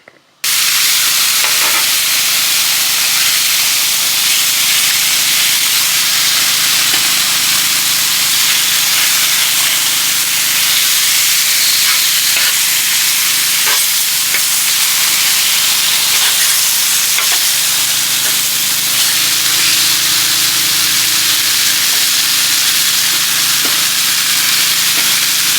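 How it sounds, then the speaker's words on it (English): Bacon sizzling loudly in a pan at a lakeside campsite, a dense, continuous crackling hiss with small pops that holds steady throughout, with no talking. "Maybe it's time to cook up a little bacon"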